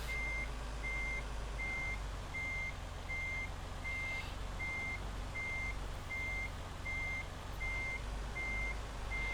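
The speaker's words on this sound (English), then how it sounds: "we're going to hear a lot of beeping from here on out" Truck reversing alarm in American Truck Simulator, a steady evenly spaced beep repeating about a dozen times over a constant low engine rumble, with no talking.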